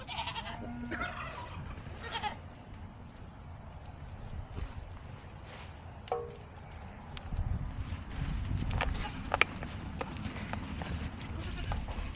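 Newborn Nigerian Dwarf goat kids bleat in short, close calls at a birth in a barn, heard over steady background noise and shuffling, with people talking nearby.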